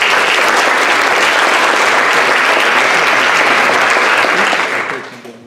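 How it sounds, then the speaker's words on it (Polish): Loud, dense audience applause fills a hall at a panel event, steady throughout and fading out at the end, with no talk over it. "Cały panel poprowadzi Maciej Reichfeld, dla niego też ogromne brawa."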